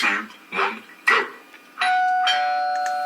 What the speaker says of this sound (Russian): Домашний звонок.